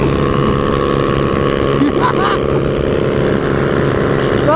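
A Yamaha Factor 150 motorcycle engine drones loudly and steadily up close during a street race, its hum staying constant throughout while voices briefly cut in under it.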